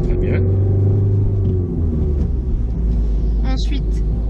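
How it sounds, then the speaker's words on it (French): Car engine in a driving lesson pulls hard under acceleration, a steady loud low drone with rising engine tone throughout, while an instructor talks over it. "Allez, on accélère, vas-y, sévère."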